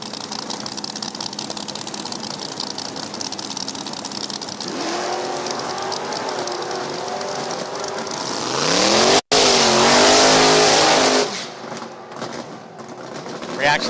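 Drag race cars, a Chevrolet F-body and a Pontiac GTO at an NHRA Division 4 event, rumble loudly at the line, then roar and rev hard through a launch with a brief dropout and a sustained blast fading off as the cars pull away.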